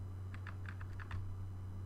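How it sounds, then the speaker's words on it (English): A computer keyboard's arrow key is tapped repeatedly while nudging a Tie Fighter model into alignment, giving a quick run of about seven light, close clicks over a steady low hum. "go down here to the arrow key on your keyboard"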